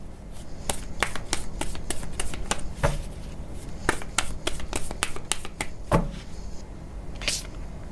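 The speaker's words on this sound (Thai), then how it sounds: "ต่อไปแม่หมอเปิดไพ่ออร์เคิลเสริมให้นะคะ" Oracle cards being shuffled and drawn by hand, a series of crisp close snaps and flicks at an irregular quick rhythm over a quiet background, with no talking.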